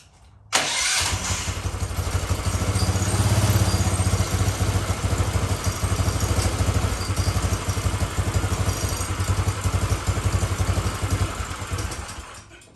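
A lifted golf cart's engine, fitted with a CFMOTO muffler and running cold, starts up and settles into a steady, close, low idle with a light mechanical clatter, alone for most of the clip.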